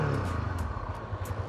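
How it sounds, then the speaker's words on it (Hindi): A sport-styled motorcycle idles just after starting, its smooth, steady low exhaust note pulsing evenly and close by with faint mechanical clatter, no voices over it. "मैंने स्टार्ट किया, ये इसका एग्जॉस्ट नॉट है, साउंड है, काफ़ी स्मूथ है"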